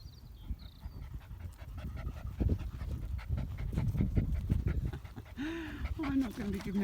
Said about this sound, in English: And now I've got my dog jumping all over.